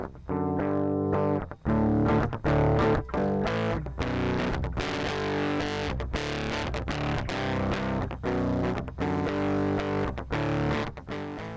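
A distorted, saturated guitar plays chords and notes with a gritty, fuzzy tone, loud and steady with brief breaks between phrases.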